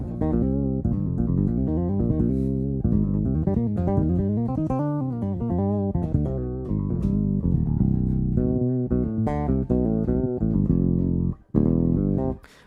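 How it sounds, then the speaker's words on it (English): Bass guitar run through an earlier-generation EBS OctaBass octave pedal, playing a continuous melodic line with a thick doubled low octave, loud and alone, pausing briefly near the end before resuming. "So that's an octave pedal, and that's an EBS octabass"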